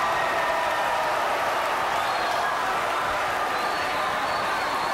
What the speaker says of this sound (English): Eric Thurston slams it down. Gets the crowd excited.